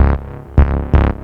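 Moog synth bass with a touch of echo, three thick, booming notes in a slow pulsing rhythm, loud and up close with no voices.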